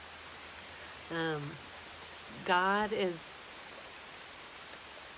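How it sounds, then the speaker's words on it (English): Steady rain falls as a faint, even hiss throughout, with a person speaking softly over it in two short bursts. "I don't know if you can hear the rain just coming down."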